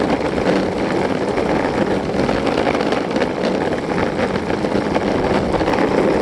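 A Backfire II electric skateboard rides at full throttle on a slippery road, giving a steady roar of wheel and motor noise mixed with strong wind rush that stays loud and unbroken throughout.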